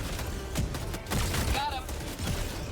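The Purifier energy gun fires in Helldivers 2 in a quick string of sharp, booming shots with a brief rising whine of charge between them, set over a low battlefield rumble.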